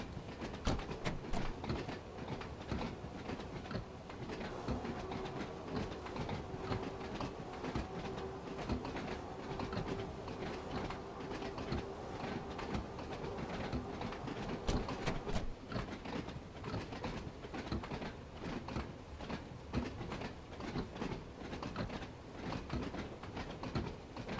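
A simulated train runs along the Isle of Wight line in Train Sim World 2, slowing on approach to Sandown platform. A steady rumble and rattle of wheels and carriage carries throughout, with occasional sharper clicks and a faint whine.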